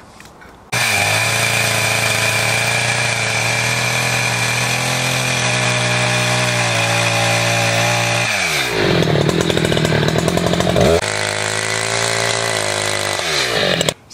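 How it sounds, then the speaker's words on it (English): A chainsaw cuts a groove into a log, its engine droning loud and steady at close range for about eight seconds, then shifting to a rougher, strained pitch as it bites deeper before settling back. "So this is the groove that I made with the chainsaw."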